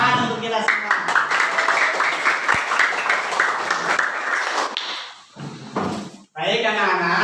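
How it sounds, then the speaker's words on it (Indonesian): Schoolchildren and their teacher applaud together in a classroom lesson, a loud burst of clapping mixed with voices that fades near the end before a voice returns. "Tepuk tangan untuk kita semua."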